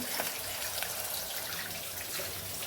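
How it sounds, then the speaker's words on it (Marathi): Tap water running into a sink while utensils are washed in a home kitchen, a continuous close rushing flow with faint drips and splashes, no talk. "पाणी आलंय ना तर भांडे धुवून घ्यायचं चाललं"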